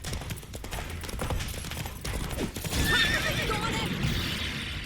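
Roach, Geralt's horse in The Witcher 3, lets out a clear, fairly loud whinny over faint hoofbeats and background game sounds.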